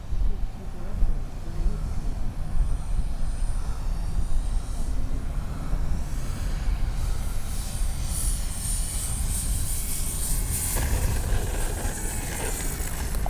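An RC model Super Tucano turboprop airplane with gear down and takeoff flaps set runs up and takes off, a continuous whining engine and rushing noise held steady and fairly close.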